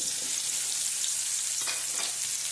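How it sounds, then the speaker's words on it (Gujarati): Spiny gourd (kantola) pieces frying in hot oil, giving a steady, close hiss of sizzling that fills the whole clip with a few faint stirring clicks, no talking. "આગળ તેલમાં તળશું ને આને તેલમાં આપણે તળી લેશું"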